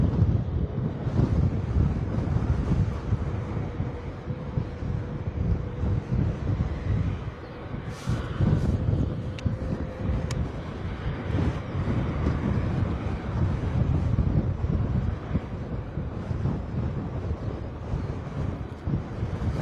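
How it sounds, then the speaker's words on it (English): Blustery wind buffets an outdoor spot at Bristol Airport, a continuous loud rumbling roar of gusts against the microphone that rises and falls throughout with no talk. "As you can hear, blustery wind now, much more so than when we arrived."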